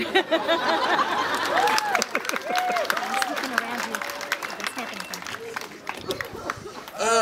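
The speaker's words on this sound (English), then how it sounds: "Hold and wait for applause." Wedding guests clap for the best man, a moderate burst of applause mixed with chatter, laughter and a few raised voices, fading toward the end.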